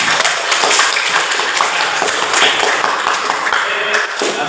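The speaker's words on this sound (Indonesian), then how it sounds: "Tepuk tangan untuk kalian semua." A classroom of students claps together after group discussions, a dense run of many hands that holds steady for several seconds and fades near the end, with no voices over it.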